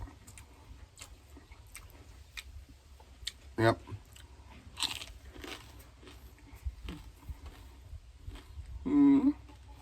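Someone bites into crispy Thai fried pork belly, giving a few sharp, crunchy bites and chewing sounds close to the microphone. Someone talks over them throughout.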